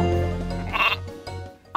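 A sheep from the Ewe Doodle video game on iOS gives a single wavering, moderately loud bleat, followed by brief game sound effects.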